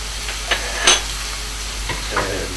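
Lunch meat fries in a pan, a steady sizzling hiss with a few louder stirring scrapes and spits spread through it, close and alone with no voices.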